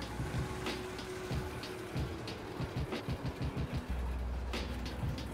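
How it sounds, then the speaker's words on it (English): Car exhaust idling at the rear tailpipes, a faint steady rumble with a slightly uneven pulsing beat, heard close outdoors. "Let's go ahead and go on this side so you can hear the exhaust"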